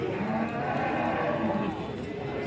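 Punganur calves at a weekly calf market, with a drawn-out moo rising from the dense background of a busy livestock fair, under indistinct crowd chatter.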